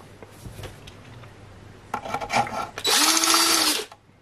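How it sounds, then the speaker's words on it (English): A power drill rounds out a hole in the chassis of a Naim NAC 72 preamplifier, whirring loudly and steadily for about a second after some brief scraping and handling noises. "I'm just going to just whip that out with a drill."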